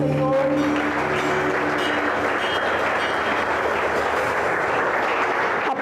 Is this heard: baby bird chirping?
no